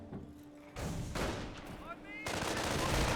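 Machine gun and rifle fire in a Company of Heroes battle comes in loud, sharp bursts that start and stop, mixed with booming impacts, while voices talk over the fighting.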